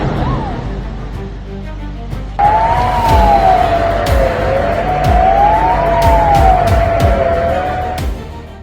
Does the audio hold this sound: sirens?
yes